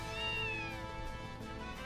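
A cat meows in the video game Trails From Zero, one drawn-out, tonal call that stays steady and clear, with no talk over it.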